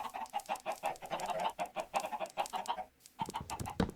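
A Minecraft chicken coop gives off busy, repeated short clucks from several birds at close range, dropping briefly to a lull before a few louder clucks return, with no voices over them.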